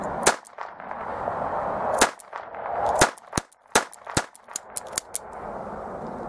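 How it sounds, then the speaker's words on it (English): An Ekol Viper .22 blank revolver, a Colt Python style, fires a series of loud, sharp cracks at close range, about a dozen irregularly spaced, each with a short ringing tail over background noise. "Okay, so now I'm gonna take a few shots"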